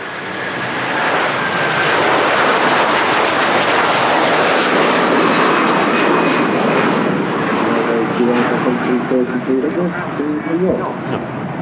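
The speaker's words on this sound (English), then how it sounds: "That was particularly loud, that departure. Heading off to New York, the Virgin Atlantic service." A Virgin Atlantic jet departs Manchester Airport for New York with a loud, sustained broadband roar of jet engines that builds and then slowly fades, while people talk nearby toward the end.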